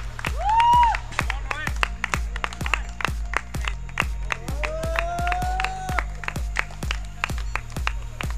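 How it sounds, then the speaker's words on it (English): A crowd claps in a steady, loud rhythm of sharp beats for a team at a cricket event, with voices and a drawn-out call rising over the claps. "Please, the clapping should be going on."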